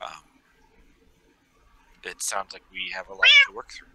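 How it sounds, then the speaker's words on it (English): A cat meowing close by, several quick, rising mews in a row, with a person speaking in the same stretch. "Pardon the feline interference."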